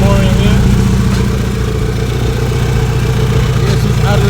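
Turbocharged H23A engine in a sixth-generation Honda Accord idling steadily just after its first start, a loud, close, continuous low rumble with a faint voice underneath.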